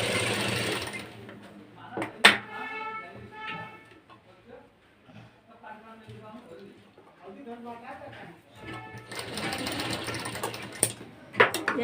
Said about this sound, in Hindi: अब फोल्ड करने के बाद हम इस पर सिलाई चलाएंगे।